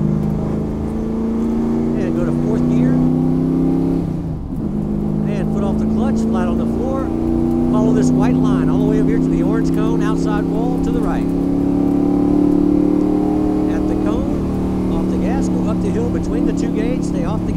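A race car engine holds a steady droning roar as the driver eases onto the gas on a track, a loud continuous tone rising slightly in pitch, with a voice talking over it throughout.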